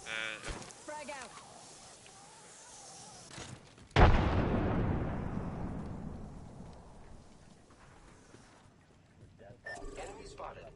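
A frag grenade in a video game detonates with one sudden heavy blast that trails off into a long rumbling decay, with voices talking in the stretches before and after.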